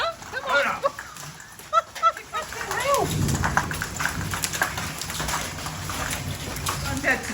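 Large hailstones pelt down outdoors during a spring thunderstorm, a dense, steady clattering roar that builds after a few seconds of scattered impacts and then holds loud and continuous, with a dog nearby and people talking at the start.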